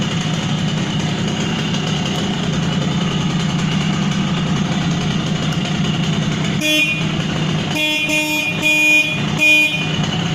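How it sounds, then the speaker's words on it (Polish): A Simson S51 moped's rebuilt engine with CDI ignition idles steadily, then its horn honks in several short, loud bursts near the end. "Klakson mocny jak w samochodzie."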